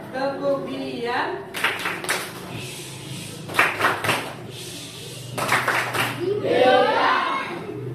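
A primary school class performs a rhythmic patterned clap chant, bursts of claps in short groups alternating with a teacher's and children's voices, near and lively in a classroom.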